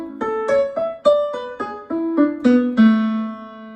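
A singer works through a long arpeggio scale exercise, rising through do, mi, sol, do and coming back down, each sustained note sung clearly and alone, with no talking.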